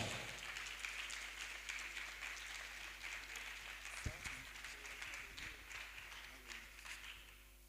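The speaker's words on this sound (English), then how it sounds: "A round of applause for Mr. Felix Ugbabo." An audience at a bank technology conference in Accra, Ghana, claps steadily throughout, a dense sustained applause heard at moderate distance while a voice speaks over it.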